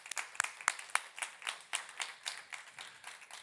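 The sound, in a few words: audience applause at a conference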